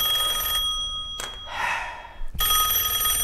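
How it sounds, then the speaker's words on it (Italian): An old-generation smartphone rings for an incoming call, a bright electronic tone repeating in bursts with short gaps between them, clear and close. "Telefonata smartphone di vecchia generazione."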